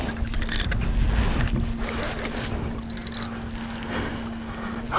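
A small fishing boat motoring out off the California coast while fighting a white seabass, with a steady low engine hum under wind buffeting and splashing water.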